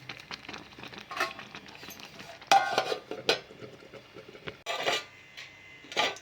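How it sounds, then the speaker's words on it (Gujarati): Rice flour dough being stirred in a pot with a spoon for crispy rice flour sev, giving soft scraping and rubbing strokes with a few louder clanks against the pot, close by and with no talk. "આ રીતે લોટને હલાવતા જઈશું"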